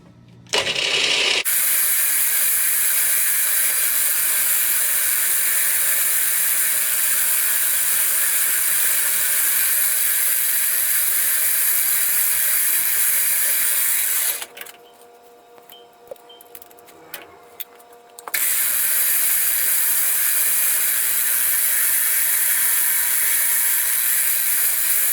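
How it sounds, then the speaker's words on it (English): Drill press boring holes in machined roller blocks in a machine shop, a loud steady high-pitched whine with a hissing edge that drops out briefly partway through, then resumes. "we're going to go ahead and get them drilled."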